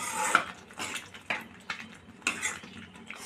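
A ladle stirs vatha kuzhambu, a spicy tamarind curry, in a pot, giving a few soft scraping, clinking strokes in a quick uneven rhythm, close and fairly quiet.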